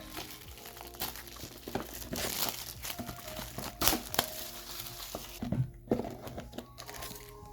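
Yu-Gi-Oh booster pack wrappers torn open one after another, with close, loud crinkling and crackling foil plastic and sharp ripping bursts, no talking.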